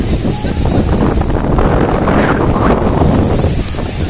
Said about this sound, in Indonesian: Anginnya mantap ini, kalian bisa lihat.